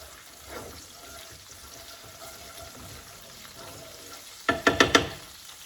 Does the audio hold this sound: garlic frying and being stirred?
yes